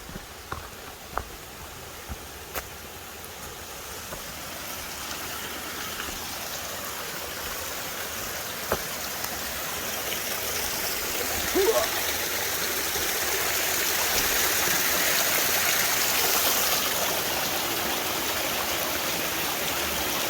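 A river flowing along the Flora Lake trail near Chilliwack Lake, a steady broad rushing of water that swells louder midway, with a few faint clicks and no talking.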